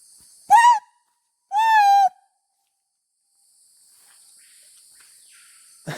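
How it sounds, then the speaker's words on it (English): Two clear, loud whistled bird calls a second apart, each a rising-falling harmonic note, followed by quiet ambient hiss and a faint high buzz at the end. "I love these birds so much."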